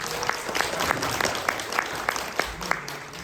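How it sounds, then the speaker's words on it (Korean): An audience claps together at a Korean screening event with a Q&A session, the applause steady and moderately loud, with a few sharper claps standing out and faint voices underneath. "큰 박수 부탁드리겠습니다."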